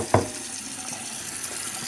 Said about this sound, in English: I put a little bit of water in the bowl